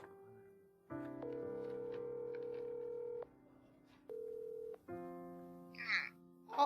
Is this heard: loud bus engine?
no